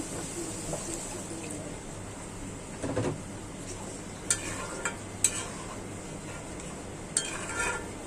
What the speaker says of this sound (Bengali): মশলাটি কষানো হয়ে গেছে, এখন ডিম দিয়ে দিচ্ছি।